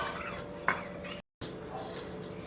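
A spoon stirring custard into hot milk in a pot, with soft scraping and clinks of metal against the pot, one sharper tap partway through and a brief dropout, no talk.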